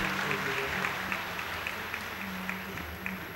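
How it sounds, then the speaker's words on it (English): An audience claps together at a spiritual gathering, a steady, even patter of many hands that carries on without a break and with no talk over it. "So everyone claps because children have kept the courage"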